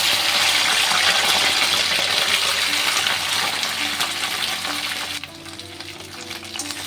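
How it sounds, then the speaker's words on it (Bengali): Cut okra dropped into hot oil gives a loud, dense frying sizzle that holds steady, then eases off slightly near the end. "তেল গরম করে নিয়েছি, নিয়ে এবারে ভিন্ডিগুলো দিয়ে দিচ্ছি"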